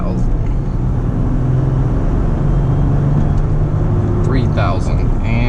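A manual-transmission Jeep Gladiator drives along a road with a steady, loud engine drone and low rumble throughout, while a voice talks over it.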